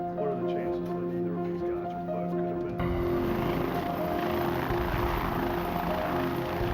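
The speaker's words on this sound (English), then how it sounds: "Arizona Department of Public Safety helicopters retraced the guards' scheduled route." Arizona Department of Public Safety helicopters flying over remote desert, a steady rotor and engine drone that grows denser and louder partway through, with a low rumble underneath.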